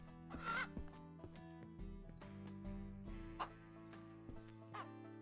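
Hens clucking inside a henhouse in the farming video game Ranch Simulator, faint, steady, layered game ambience with scattered short cluck-like calls over a low droning background.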